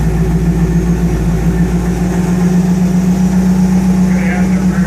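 A Dodge M37 truck engine running with the clutch in, a loud steady low rumble that holds throughout, with a person talking over it.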